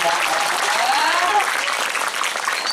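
Loud, continuous crowd applause for gamelan musicians at a Calonarang temple performance in Ubud, dense and steady with a few voices calling out over it.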